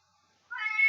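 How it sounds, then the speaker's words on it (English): A single pet cat meows once indoors, a short rising cry that starts abruptly after near silence, fairly close and clear. "Sorry, that's my cat there."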